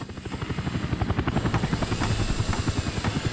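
Helicopter in the city-building game Workers & Resources: Soviet Republic, a steady rapid rotor chop with engine hum, close and continuous throughout with no talking.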